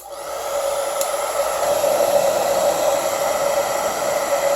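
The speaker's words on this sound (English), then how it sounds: "before you can do anything with the blow dryer, you have to hit the red button here" Vaslon 1875W infrared ionic hair dryer running, a steady close whooshing blow with a constant motor whine, loud and unbroken with no talking.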